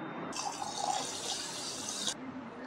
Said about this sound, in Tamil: இப்போது இந்த ரைஸை வந்து ஒரு 2 டைம் வந்து நல்லா வாஷ் பண்ணிக்கோங்க